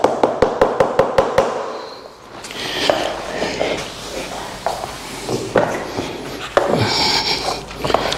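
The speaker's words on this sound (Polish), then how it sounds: "Tylko pukam, słuchajcie." About eight sharp, evenly spaced taps land in a fast row, then scattered knocks and rustling handling noise carry on at varying loudness.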